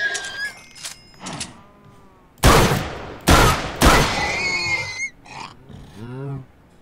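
Gun fire with incendiary ammunition in the Minecraft Tech Guns mod sounds as three loud, broad bursts in quick succession, each sustained for about half a second, with game sound effects around them.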